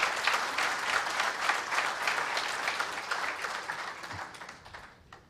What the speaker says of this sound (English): Give a big hand to IDMA for organizing such a wonderful thing